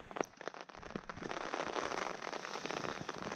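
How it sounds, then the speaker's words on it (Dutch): Steady rain patters down on a tarp in a camp in England, a dense continuous hiss with scattered sharper drops, no one speaking. "En het regent nog steeds."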